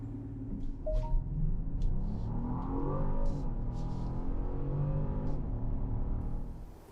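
A 2025 Genesis GV70 launches hard under launch control, its engine note rising in a sustained roar with climbing revs for several seconds before easing off, heard from inside the cabin without talk.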